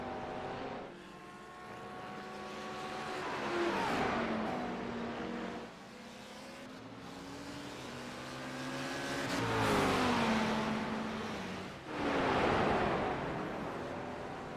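GT3 race cars, a Ford leading a chasing Ferrari, roar past at Road Atlanta, engines rising and falling in pitch as they approach and pass, loud then fading, with commentary barely present.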